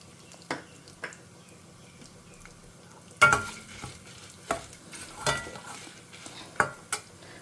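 Urad dal roasting in a pan, heard as a faint dry sizzle under scattered scrapes and clinks of a spoon stirring, several sharp taps spaced through the clip.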